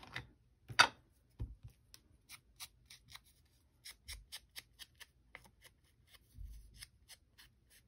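Scissors snip through paper hearts cut from journal pages, giving a loose series of short, crisp cuts with small pauses and light rustling in between, close up and with no voices.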